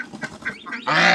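A large royal duck at a backyard pigeon and poultry farm gives a few short nasal honks, then a louder, drawn-out call, close by and clear with no talk.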